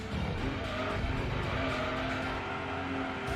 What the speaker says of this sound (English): Drift.